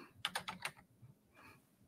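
Several quick keystrokes on a computer keyboard in two short bursts, close and fairly faint, with a pause between them and no talking.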